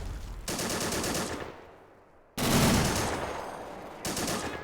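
Machine gun fire from the Army Men: Plastic Wars video game, loud and close, in several sustained bursts separated by short gaps, with no talking over it.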